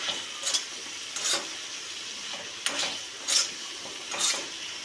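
A spoon stirs food in a sizzling pan on a gas stove, making scraping strokes in an irregular rhythm over a steady frying hiss, close and clear with no talk.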